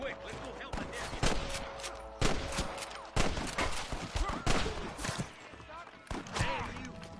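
Gunfire crackles in the Western game Red Dead Redemption, with loud sharp shots in bursts and pauses, horse hooves and voices mixed in.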